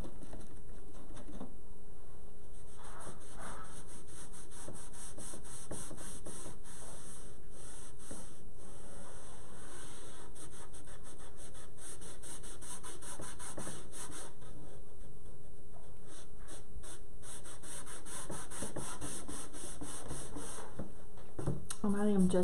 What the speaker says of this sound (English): I am just gonna wipe this on here, and it's gonna create that stain without having to buy expensive stain